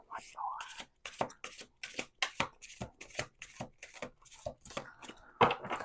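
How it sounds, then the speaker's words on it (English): A deck of cards being shuffled in a series of quick, crisp riffles and taps at close range, quiet and rhythmic. "1 more shuffle."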